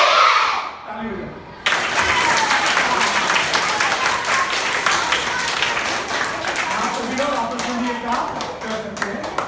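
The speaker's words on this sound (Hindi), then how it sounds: "ताली हो जाए" A classroom of fourth-grade schoolchildren claps loudly, a dense burst that starts abruptly after a short lull and carries on steadily with scattered voices mixed in.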